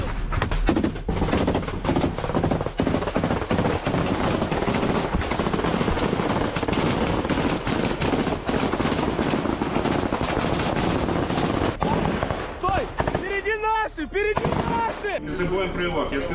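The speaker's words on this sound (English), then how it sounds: "Bradley opens fire at the trenches." A Bradley fighting vehicle fires its guns at trenches in dense, continuous loud bursts of gunfire that sustain for most of the stretch, then break off into scattered shots with distorted voices shouting near the end.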